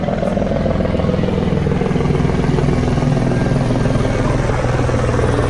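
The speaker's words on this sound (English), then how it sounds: "All these helicopters." A helicopter thunders overhead with a loud, continuous rotor chop and engine drone, close and steady throughout.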